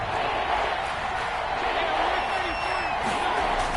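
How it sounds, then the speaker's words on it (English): Roaring Seahawks home crowd in a football video game, a loud, steady stadium din with scattered whoops and shouts near the red zone, broad and continuous without a break. "this red zone is where the Seahawk crowd really makes it tough for an offense to communicate"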